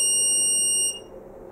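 Electronic beeper muffled by a piece of film gives a steady high-pitched piercing tone close by, lasting almost a second before it stops, leaving faint room hum.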